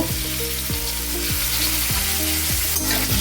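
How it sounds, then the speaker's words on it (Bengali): Potatoes fry in hot ghee with a loud, continuous close sizzle and bubbling, accompanied by repeated rhythmic scraping strokes of stirring, no voices. "প্রথমে আলুগুলো ভালো করে ভেজে নেব"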